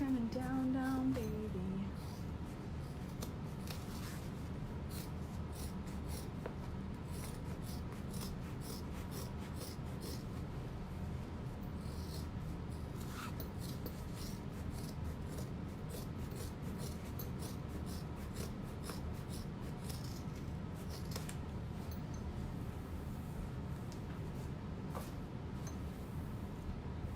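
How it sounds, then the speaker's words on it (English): Scissors trimming loose threads and cutting down a fabric seam on a handsewn handbag, soft repeated snips and rubbing close by, steady and quiet over a low background hum. "Just trimming up all those extra threads, and then we're going to trim this seam down"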